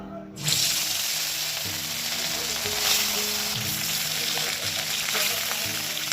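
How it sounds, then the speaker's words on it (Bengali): Fish sizzles steadily in a hot pan, a continuous broadband hiss of frying oil with faint clinks and low background hum throughout. "মাছ নিয়ে এসছে তো একদম ধুয়ে টুয়ে নিয়ে আসলাম এখন এই যে এগুলো ভাজবো"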